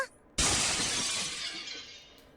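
A glass sleeping-pill bottle with an aluminum lid shattering on the ground in a video game, one sudden bright crash followed by a ringing scatter of fragments that fades away, heard alone.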